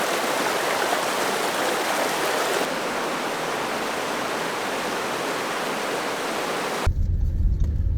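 A rapid on the Toccoa River beside a road in Blue Ridge, Georgia, rushing as a dense, steady roar of whitewater, close and loud, with a brief change in tone near the end.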